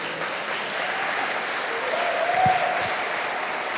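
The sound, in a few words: audience applause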